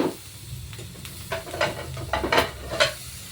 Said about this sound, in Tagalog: ilagay na nga rin natin itong sili sa gilid-gilid